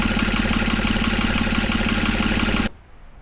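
A three-cylinder John Deere tractor engine idles close by with a steady, throbbing, slightly knocking chug, loud and unbroken, then cuts off abruptly near the end, leaving quiet.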